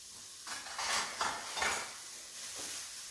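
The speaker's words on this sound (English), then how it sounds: "I'm trying to bring the skillet to you so that you can hear the sizzle" Jalapeno peppers, red onions and celery sizzling in a skillet while being stirred, soft scraping strokes repeating over a steady low frying hiss, close by and fairly quiet.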